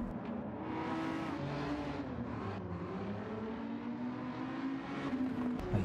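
A Daihatsu Copen race car in Gran Turismo 7 drones with a steady engine note that rises and falls through gear changes, joined by other cars racing nearby. It sounds continuous and moderately loud, with no talk.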